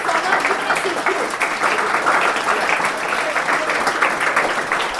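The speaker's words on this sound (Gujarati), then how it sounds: "ફોર એવરીવન સિટિંગ હિયર તમારા માટે બી તાળીઓ" Steady applause from a seated audience of students at an anchoring training session, dense and continuous clapping at moderate loudness throughout.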